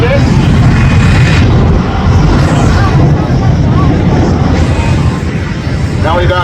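The Bone Shaker jet truck's engine roars loudly and continuously as it rolls out on a runway at an air show, a dense, booming rumble with faint crowd and announcer voices underneath.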